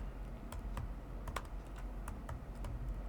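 Someone types code on a computer keyboard at an irregular pace, each key click crisp and near, over a low background hum, with no voices.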